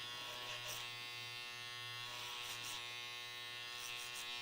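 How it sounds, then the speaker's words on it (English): Electric hair trimmer cutting a men's curtain-style haircut over a comb in a salon, a steady close buzz with slight surges as it passes through the hair, no talk. "Trimmer over comb."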